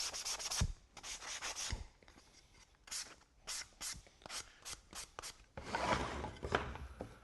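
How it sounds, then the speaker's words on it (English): Sandpaper rubs along freshly cut wooden edges in quick, uneven strokes, close and fairly quiet, the scratchy passes coming in short bursts with small pauses and no talk. "What we need is a little bit of sandpaper. We'll run through all the cut edges"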